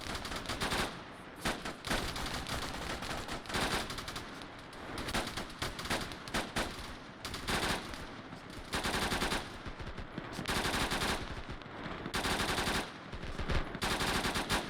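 Gunfire from a military squad in a video game, bursts of machine-gun and rifle fire repeating in rapid clusters with short gaps, loud and dense throughout.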